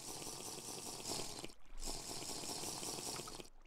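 Water drinking sounds in Minecraft, a continuous faint liquid gurgle with a brief break midway and a short cutoff near the end.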